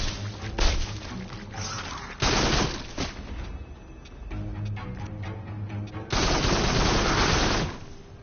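A shotgun fires at spiders in the VR shooter Farpoint, heavy booming blasts in several loud bursts mixed with rapid weapon fire, thuds and crashing impacts, close and dense.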